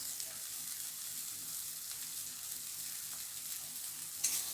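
Chopped green chillies sizzle in hot oil in a home kitchen, a steady close hiss of frying with a brief louder crackle near the end.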